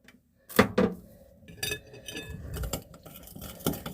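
A utensil clinks and scrapes against a bowl while mixing bulgogi marinade with oyster sauce and sesame oil, a few sharp taps followed by a steadier stirring scrape, close and clear.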